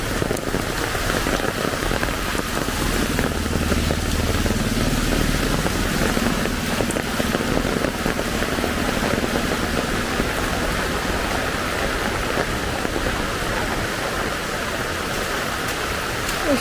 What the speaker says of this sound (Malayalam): പിന്നെ മഴ കണ്ടോ.